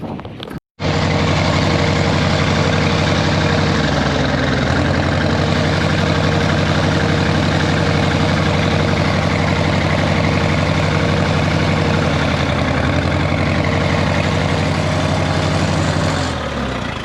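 A Case tractor's four-cylinder engine idles steadily and loudly close by, running unevenly from a misfire on one cylinder, with a brief dropout at the start and no talking.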